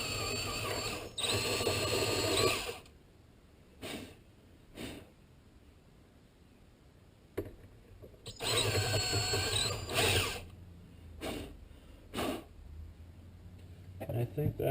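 Drill bit gently boring out an old jet in the carburetor of a 1947 Farmall M tractor, heard as two loud whirring bursts at the start and middle, with short spurts between.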